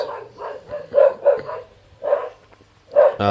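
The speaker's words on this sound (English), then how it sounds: "my dog's barking outside" A dog barking outdoors, apparently at someone passing by, in a series of spaced barks of moderate loudness, heard indoors from some distance away.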